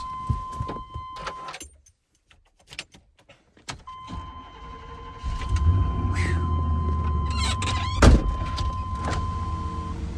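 A feed box truck on a harvest farm cranks and its engine starts, settling into a steady low idle rumble after earlier clunks and door sounds, with a thin electronic tone running through much of it.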